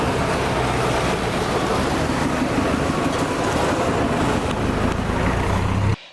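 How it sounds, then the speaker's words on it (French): A bus ride rumbles along steadily, with the low engine drone and road noise holding loud and constant for several seconds before cutting off abruptly. "So now I take the bus"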